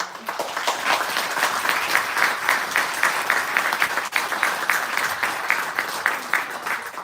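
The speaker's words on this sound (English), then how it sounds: "join me in a round of applause" Sustained applause from a crowd at a chamber of commerce State of the City event in a civic theater, steady dense clapping filling the whole stretch without pause.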